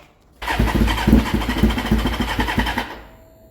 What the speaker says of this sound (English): Let's get a bike cold start